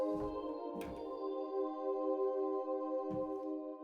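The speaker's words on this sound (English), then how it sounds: "It's this spirit pad." Spirit pad synthesizer patch layered in combi mode, a steady sustained chord with rich harmonics held for about four seconds, with a few soft low thumps from key presses beneath.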